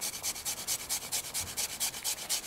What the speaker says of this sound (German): Dazu nehmen wir eine Kartoffel, eine Reibe